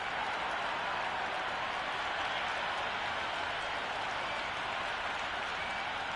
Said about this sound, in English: already the crowd is up and about